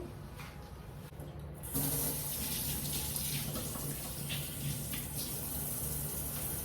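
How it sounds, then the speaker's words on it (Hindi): A kitchen tap runs steadily as a spatula is rinsed under the stream, with a sudden louder rush of water partway through that then continues as a close, even splashing flow. "तो आई वॉश इट, इसे थोड़ी सी वॉश कर देते हैं"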